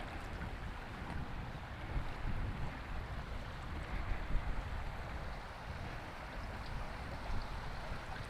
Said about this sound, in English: Hopefully you can hear the water flowing.